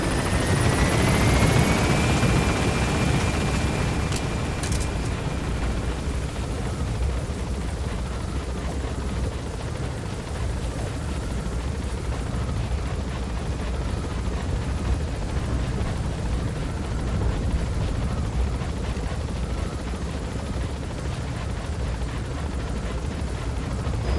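A helicopter lifts off during an extraction in the video game Metal Gear Solid V: The Phantom Pain, its steady loud rotor roar and engine whine holding constant throughout with no talk over it.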